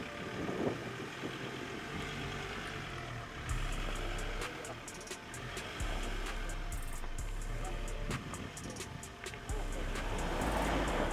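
Ford F-150 pickup truck backing up and then climbing a hill on a diagonal off-road test, with a steady engine drone that rises and falls under a clattering, rattling noise.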